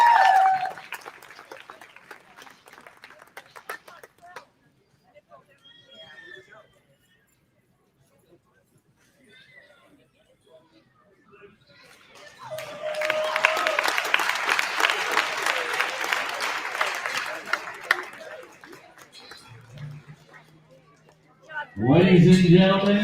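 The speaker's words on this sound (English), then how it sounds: "One more round of applause, not only for exhibitors, but for the family and for the entire show staff" Crowd applause and cheering at a livestock show's grand champion drive, starting with talk and noise, fading to near quiet, then swelling into a loud sustained burst of clapping before a voice returns at the end.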